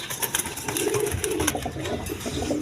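A pair of A-quality Blackless shearding pigeons, a male and a female, coo in repeated low, throaty phrases close by, over a bright, clattering background of other birds and movement.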